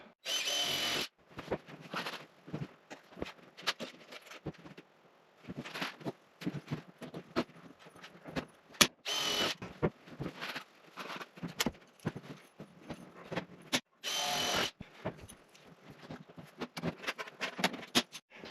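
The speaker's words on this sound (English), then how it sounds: "let me get a couple rivets in there" Sheet metal ductwork being drilled and riveted for a planer's dust collection, with short bursts of a power drill and sharp rivet clacks repeating in irregular runs, close and loud, separated by brief pauses.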